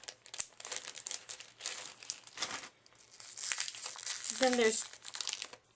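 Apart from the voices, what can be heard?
peeling plastic packaging off modeling clay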